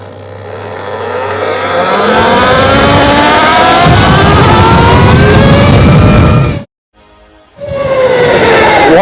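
A Komodo electric motorcycle accelerates hard, its whining motor pitch climbing steeply and loudly close by, cutting out briefly before surging again.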